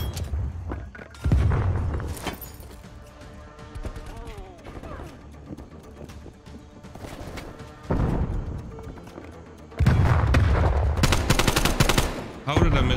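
Bursts of automatic gunfire and booming shots in the video game Black Ops Cold War, loud and close, with heavy volleys near the start, middle and end and quieter game sounds between.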